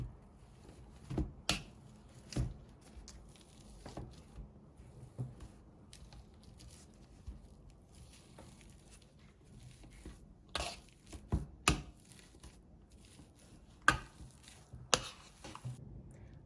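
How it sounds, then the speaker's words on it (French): Potatoes mashed into purée with a hand tool produce quiet, irregular soft thuds and squishy presses against a bowl, scattered across the stretch with pauses between strokes. "nous allons écraser les pommes de terre en purée à l'aide de ceci"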